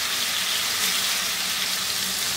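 Chicken pieces for butter chicken frying in a pan, browning with charred spots as they are turned, giving a steady, close hiss of sizzling oil that stays even and unbroken throughout.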